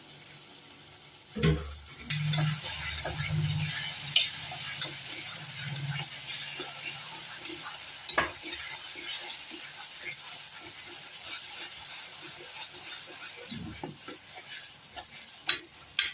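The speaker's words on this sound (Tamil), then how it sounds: "இது ஒரு 2 நிமிஷம் நல்லா வதக்கி கொடுக்கலாம்." Mashed banana for banana halwa is stirred in a sizzling pan, with scraping strokes over a steady hiss and occasional knocks of the utensil.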